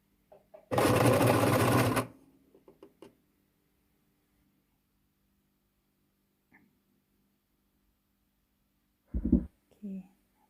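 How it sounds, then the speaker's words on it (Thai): A sewing machine stitching a cloth face mask runs in one loud, steady burst of a little over a second, then falls quiet apart from a few soft handling knocks and thumps near the end. "แล้วก็ทำการเย็บติด แต่ระวังอย่าให้โดน ยางนะคะ เส้นยางนะคะ"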